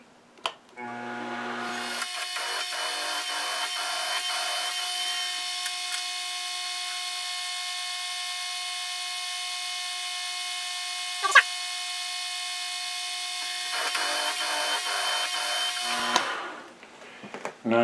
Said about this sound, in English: Get a tapping drill through.